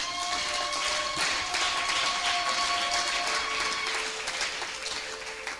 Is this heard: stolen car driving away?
no